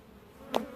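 A brief, close buzz of a honeybee or two humming near a captured swarm, lasting under a second.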